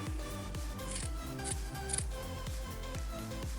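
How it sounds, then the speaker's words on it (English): Scissors cut a circle out of a burlap scrap, giving a run of rhythmic crunchy snips about every quarter second, close and steady, with no talking. "I'm just going to like cut a circle"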